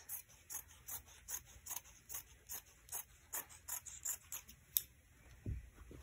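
Scissors cutting through a luxury paper shopping bag along the seam allowance, a steady series of close, crisp snips and rasps repeating about twice a second, quiet and without voices.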